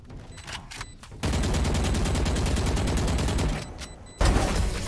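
Sustained automatic gunfire in the game Valorant rattles loud and close in a long continuous burst, preceded by a few sharp single shots and followed by another heavy volley.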